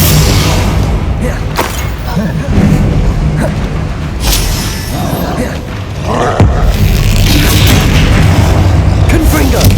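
Magic spell blasts in the Hogwarts Legacy game for Xbox Series S, with repeated booming explosions and thuds in a dense, loud battle din.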